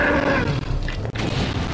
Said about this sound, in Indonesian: tuh kan ada ledakan